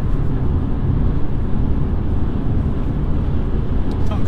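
A 2015 Mercedes C220 rolls along at a steady pace from inside the cabin, with a low constant engine hum and road rumble that stay even and moderately loud throughout, and no voices.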